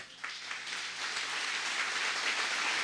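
Loud, steady applause from a church congregation cheering for the Lord, a dense wash of clapping building slightly and filling the room without pause.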